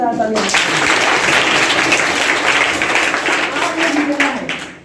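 Loud audience clapping at a spiritual talk gathering, a dense continuous burst of many hands lasting several seconds before fading, with a voice briefly audible near the start.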